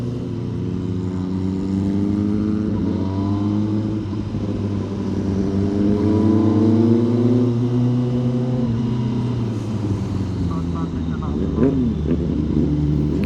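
A sport motorcycle weaves through heavy weekend traffic on a ride toward Nueva Ecija. A loud, close engine drone rises and falls in pitch, and people talk over it throughout.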